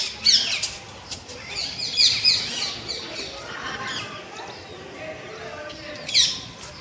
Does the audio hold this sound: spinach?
no